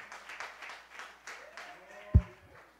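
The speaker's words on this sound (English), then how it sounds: "Clap your hands one more time." A church congregation claps hands in a steady, quick rhythm, with a voice rising over it near the end and a single loud thump close by.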